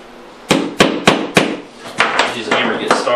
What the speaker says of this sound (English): Use a hammer to get started.